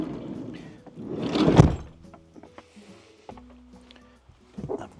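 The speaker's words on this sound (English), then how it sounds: "I need to shut the doors." A door slides and closes with a heavy thud, followed by a few softer knocks and clicks nearby in an otherwise quiet room.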